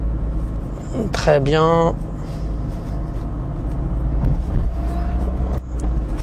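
Car engine humming steadily as the driver declutches and shifts into second gear, a low continuous drone, with someone talking over it briefly.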